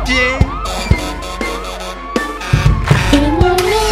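A fire engine siren wails in rising and falling sweeps amid a busy children's song track with drum hits, loud and close throughout.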